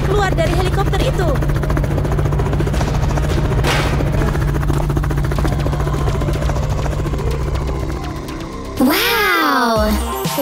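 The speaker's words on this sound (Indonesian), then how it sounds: "sebuah helikopter keren muncul dari atas" A helicopter arriving from above, its loud steady rotor drone dominating throughout, ending with a sharp rising and falling whine near the close.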